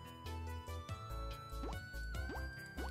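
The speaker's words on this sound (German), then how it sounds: "du fängst mal gleich an mit dem Gießen hier." Watering plants in the farming game Everafter Falls: a series of soft, bubbly drip and pour sounds in a quick rhythm over light background music.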